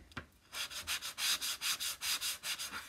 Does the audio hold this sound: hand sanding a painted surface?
yes